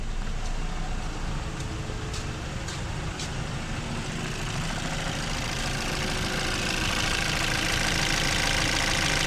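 A repaired Chevrolet Equinox engine idles steadily, a constant close mechanical hum and rumble with a few faint ticks early on.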